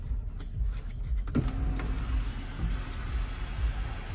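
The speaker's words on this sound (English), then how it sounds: "Sunroof opens." Electric sunroof motor on a 2020 Mercedes-Benz GLC 43 AMG whirring steadily as the roof slides open, a continuous mechanical hum heard close inside the cabin with no talking.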